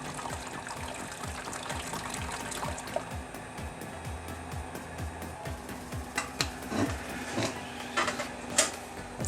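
A pump recirculates mash water through a hose in a home all-grain brewing setup, giving a steady hum with gurgling, splashing water and scattered clicks and ticks over it.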